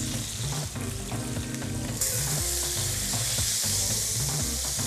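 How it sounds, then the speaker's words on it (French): A marinated wild boar shoulder sears in hot olive oil in a pan, a loud close continuous sizzle and crackle that grows brighter and more intense partway through, with clattering of meat being stirred and turned. "Nous allons faire revenir notre viande, qui aura mariné pendant 24 heures."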